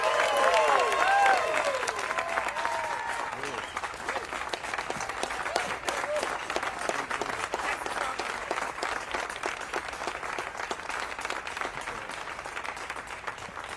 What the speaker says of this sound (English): he deserves the loudest applause of all